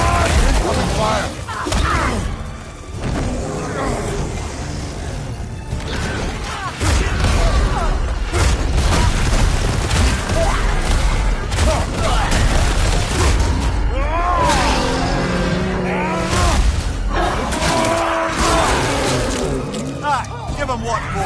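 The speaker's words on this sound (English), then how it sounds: "Incoming fire!" Incoming fire and explosions rumble and boom through a chaotic God of War Ragnarok battle, with dense, continuous heavy impacts and mechanical clatter and voices shouting over the din.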